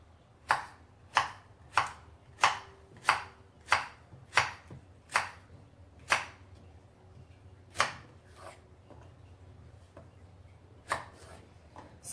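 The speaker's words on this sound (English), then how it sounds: "now I'm going to chop off the top and the bottom. And I'm going to chop it into smaller pieces" A knife chops peeled zucchini into smaller pieces on a board, with about a dozen sharp, distinct cuts at a steady, unhurried pace, a few pauses and faint background hum between them.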